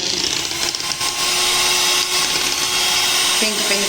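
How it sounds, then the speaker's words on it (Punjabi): An electric beater whirs steadily through a colored ice cream mixture made without milk, a close continuous motor drone with a pitch shift near the end. "ਫਿਰ ਆਪਾਂ ਇਹਨੂੰ ਚੰਗੀ ਤਰ੍ਹਾਂ ਬੀਟ"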